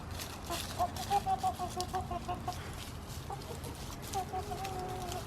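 Nineteen-week-old backyard chickens cluck and chatter softly in a run on a cold day, with a string of murmuring clucks and occasional higher notes at moderate distance.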